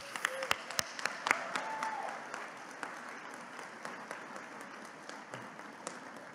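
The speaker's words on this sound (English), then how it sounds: "Let's have another round of applause for our honorees." A dinner audience applauds the honorees at an awards evening. The clapping is fairly faint and scattered, with a few sharper nearby claps and some voices murmuring through it.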